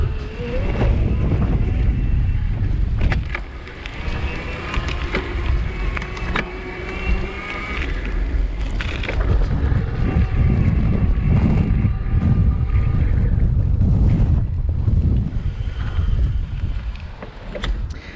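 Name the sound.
riding the IZIP E3 TRLZ electric bike on a smooth street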